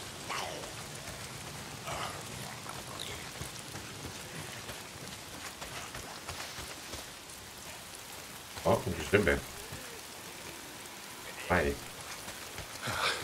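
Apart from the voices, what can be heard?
rain falling in video game Days Gone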